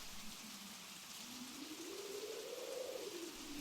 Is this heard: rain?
yes